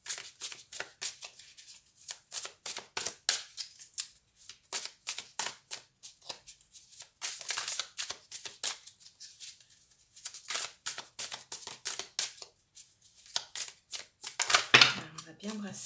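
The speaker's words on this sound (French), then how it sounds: "Alors, on va bien brasser." A deck of cards is shuffled in quick, crisp riffling bursts repeated many times with short pauses between them, fairly faint and close, with a person speaking softly in between.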